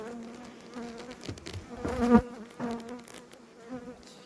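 Honeybees buzz at an open hive in a highland apiary, a dense steady hum with individual bees droning close past the microphone, swelling loudly near the middle; no voices.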